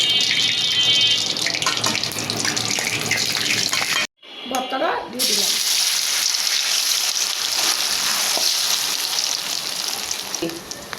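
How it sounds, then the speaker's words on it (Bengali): Dried chilies fry in hot oil in a heated wok for potato bhorta. A loud, steady sizzling hiss runs nearly throughout, broken by one brief sharp dropout partway through before the frying noise returns. "মরিচটা দিয়ে দিলাম মরিচটা ভাজা হচ্ছে"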